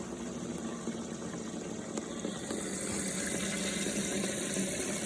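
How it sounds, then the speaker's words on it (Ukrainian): Water runs steadily into a sprayer tank being filled before vineyard spraying, a constant close rushing and gurgling hiss with no pauses. "Так, побігла водичка."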